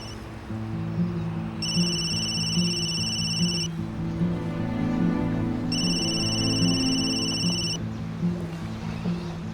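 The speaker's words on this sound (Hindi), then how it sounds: "अपना फोन चेक करो, बज रहा है।" A phone rings in two long electronic bursts separated by a pause, loud and close, over a low steady background hum.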